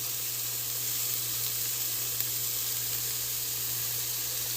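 Chili pieces and cloves sizzling in hot oil in a frying pan, a steady, even hiss that runs without a break at moderate loudness, with a low constant hum underneath and no talking.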